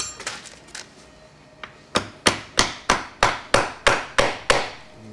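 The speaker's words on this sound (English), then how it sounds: "we're just going to tap this first section off, and we'll be inside the transmission" Light tapping on a Honda Accord automatic transmission case during teardown: about eleven sharp metallic knocks, a few faint ones first, then a steady run of louder, evenly spaced taps close by with no talking.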